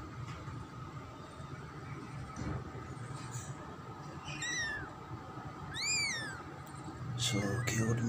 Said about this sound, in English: So cute meow sounds of this cutest kitten.